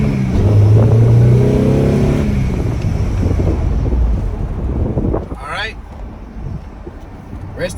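A Lexus IS 300 F Sport accelerates hard at night, its engine rising through revs under heavy wind rush heard from inside the cabin before the noise eases off.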